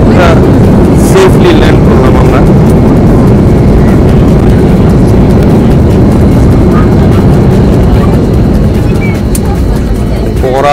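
A US Bangla Airlines airliner touching down and braking hard on the runway, heard from inside the cabin as a loud, steady engine and rolling roar with a few sharper knocks.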